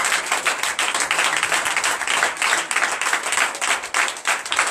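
Congregation applauding loudly in church during a night deliverance and prophecy service, a steady dense wash of clapping holding without a break for the whole stretch.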